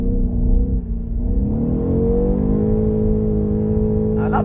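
A 530 hp BMW M850i xDrive Coupé accelerates hard on a racetrack, its engine droning loud and steady from inside the car as the pitch climbs through the run, with no talk over it.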